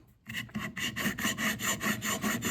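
A plane blade being honed back and forth on a metal sharpening stone lubricated with WD-40, giving a steady rhythmic rasping scrape of about eight close, loud strokes after a brief quiet start.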